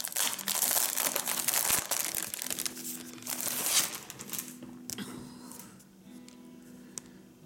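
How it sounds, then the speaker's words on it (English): Plastic mailing wrap crinkles and rustles as it is pulled off a sticker sheet, close and fairly loud, with soft music and faint voices in the background. "let me take it out of the wrapping that they mailed it in"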